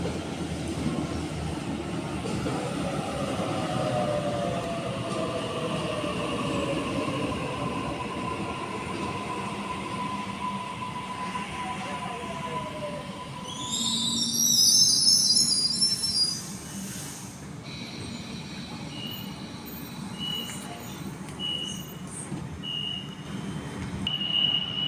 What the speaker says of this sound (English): A44 is now departing, service to Liverpool.